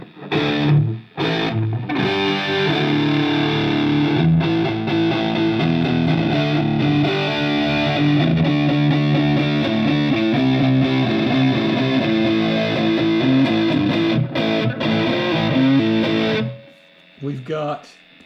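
Electric guitar played through a Fender Mustang LT25 amplifier on its Mythic Crunch preset, a loud, steady distorted crunch riff of chords and notes running about sixteen seconds before cutting out, with brief pauses near the start.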